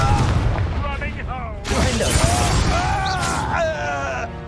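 In the Hogwarts Legacy video game, a Confringo fire spell goes off with a loud booming blast and a fiery burst that follows a spoken spell cast, with groaning voices and effects around it.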